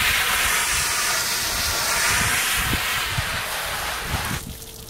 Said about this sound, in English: Firing our trusty blind cleaner.